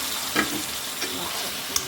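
Rohu fish curry with bottle gourd greens frying after water is added, a loud, dense close-up sizzle with a few light spatula scrapes over less than two seconds.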